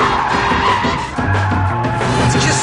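A Mazda MX-5 roadster drives with its engine and exhaust note droning loudly, mixed with tyre squeal and road noise.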